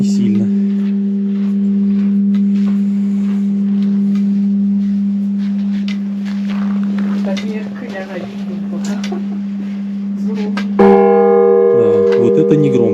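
A deep Buddhist temple bell tone at Ivolginsky Datsan, Buryatia, hums through faint talking, then a fresh strike sounds near the end, loud and close, its rich overtones ringing on.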